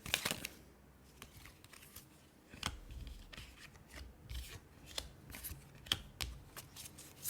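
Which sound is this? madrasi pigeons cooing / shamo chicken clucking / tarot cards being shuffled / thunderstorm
tarot cards being shuffled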